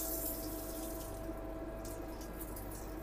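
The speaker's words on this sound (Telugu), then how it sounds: "వాష్ బేసిన్ వాటర్ ఇక్కడ కొంచెం లైట్గా వస్తున్నాయి ఎస్ వర్కింగ్" Water trickles weakly from a wash basin tap in a train coach washroom, a faint steady flow under the constant rumble and hum of the moving train.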